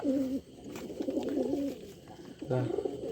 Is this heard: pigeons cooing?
yes